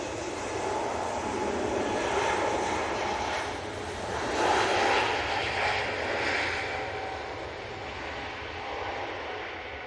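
An airliner on short final to runway 23 right at Manchester Airport in a gusty crosswind, its broad jet roar steady and fairly near, swelling slightly midway with wind noise blended in.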